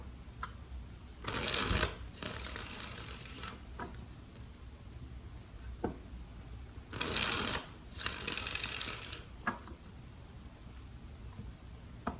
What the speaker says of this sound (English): Let's do 3 shuffles for Sagittarius.